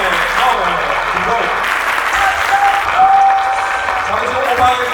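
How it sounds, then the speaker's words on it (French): Audience applause during a graduation ceremony speech, a sustained wash of clapping at fairly loud level with a voice talking over it. "vous applaudissez comme ça, froidement"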